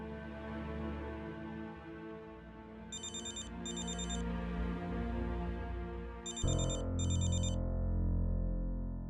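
A telephone ringtone plays in two paired bursts of electronic rings, loud over a dense background of music, with no speech.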